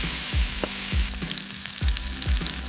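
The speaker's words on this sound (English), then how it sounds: "The stone became a universal frying surface." Food frying on a hot stone slab set over an open fire, a steady sizzle broken by several sharp crackles and pops at irregular intervals, heard close with no voices.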